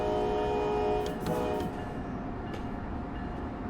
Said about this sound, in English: Nice horn though.